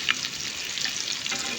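A packet of ghuri snack frying in hot oil, giving a steady, close, dense crackling sizzle throughout with no voices.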